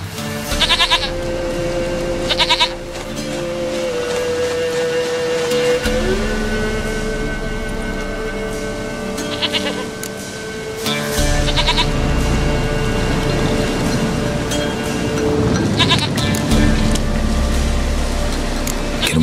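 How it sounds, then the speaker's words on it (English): A goat in The Witcher 3 bleats in wavering calls, close and fairly clear, with a few separate cries spread over a continuous game ambience. "Goat of mine, dearest, sweetest goat."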